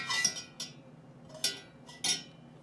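A metal spoon taps and clinks against a cooking pot in an RV kitchen while salted water is stirred, with three or four short, bright knocks spaced apart at close range and no talking.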